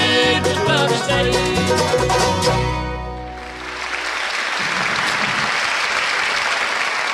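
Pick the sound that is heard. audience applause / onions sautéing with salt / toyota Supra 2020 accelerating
audience applause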